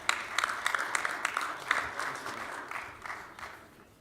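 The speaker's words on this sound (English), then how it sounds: "Let's give a round of applause for Pedro Segura from Hartford" Audience applause for Pedro Segura of Hartford at a city panel on sports facilities, a moderate burst of clapping that fades out over a few seconds.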